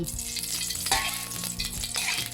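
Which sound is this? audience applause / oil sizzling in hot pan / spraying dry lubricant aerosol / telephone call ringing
oil sizzling in hot pan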